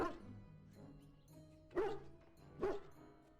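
Inside the Dragon Age Origins video game, a hound whimpers softly, then gives two short, sharp barks spaced about a second apart, fairly quiet overall.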